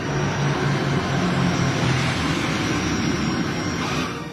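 Passenger airliner landing on runway 02 at Kathmandu, a loud continuous roar of jet engines that holds steady and then eases slightly toward the end.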